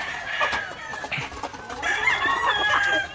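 Layer hens cluck in a roomy coop fitted with nesting boxes, giving repeated short, close clucks and murmurs, with a few louder squawk-like calls near the end.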